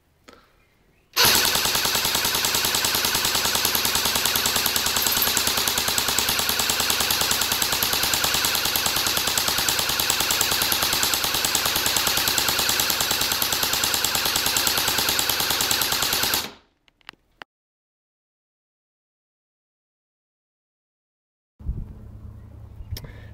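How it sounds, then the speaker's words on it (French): An airsoft gun in full-auto burst mode fires one long rapid, unbroken stream of shots for about fifteen seconds, loud and close, then stops abruptly into silence. "Et donc ça, c'est vraiment le mode rafale qui est vraiment sympa."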